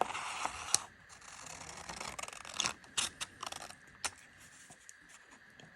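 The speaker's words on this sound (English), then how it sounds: "And then I'm going to cut out this last page." Scissors snip through a paper page for a small folded miniature book, giving a few sharp, close cutting clicks and crunches spread irregularly over a quiet room background.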